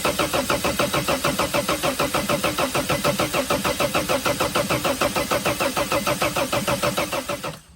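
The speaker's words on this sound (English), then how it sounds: "So now I just supposed to crank it over for 10 seconds and see what's up." A Sprinter diesel engine cranks over without firing, the starter churning in a fast, even rhythm for several seconds before cutting off abruptly.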